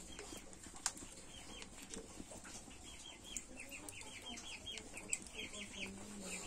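A hen clucks softly and intermittently in the distance of an outdoor kitchen setting, with faint voices and background noise around it.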